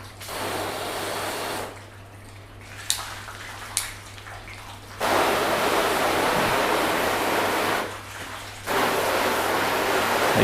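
Pressure-washer spray drumming onto a sealant-coated car panel in a touchless sealant test, a loud hissing rush that starts and stops in bursts, with a pause and a couple of sharp clicks between sprays.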